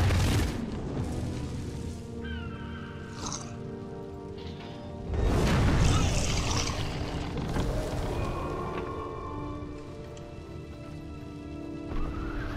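Trebuchet shot landing in Guild Wars, a heavy boom of impact followed by a rain of scattering debris and crackling game effects, with a second rumbling burst midway, moderately loud with no talk.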